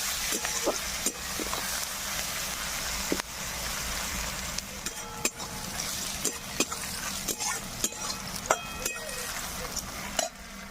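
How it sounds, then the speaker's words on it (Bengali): Sliced onion fries lightly in a pan with bay leaves, cinnamon, cardamom and cloves, giving a soft steady sizzle while a spatula stirs and scrapes with irregular clicks and knocks, close by. "দিয়ে ভালোভাবে একটু নাড়াচাড়া করে নেব। হালকা একটু ভেজে নেব পেঁয়াজটা"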